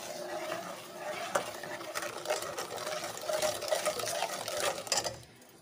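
Sugar is stirred into a plum syrup mixture in a pot, giving a continuous scraping, swishing stir with small clinks against the vessel, moderately close and without talk.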